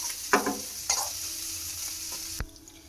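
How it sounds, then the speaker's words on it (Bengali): Gram flour fritters fry in hot oil in a pan, giving a steady close sizzle with a few sharp clinks and scrapes from turning them. "বেশ সুন্দর করে উল্টে পাল্টে ভেজে নিলাম"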